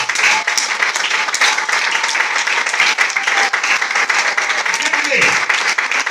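A church congregation applauds loudly and steadily the whole time, a dense wash of clapping with voices mixed in.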